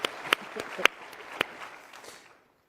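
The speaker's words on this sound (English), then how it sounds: "let's give them a round of applause" A handful of scattered, uneven claps from a small group at a political event, thinning out and trailing off into silence within a couple of seconds.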